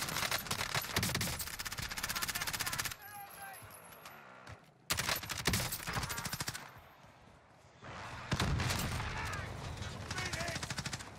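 Automatic gunfire in a battle royale shooter, long sustained bursts of rapid rounds broken by brief gaps, loud and close with a short quieter stretch between volleys.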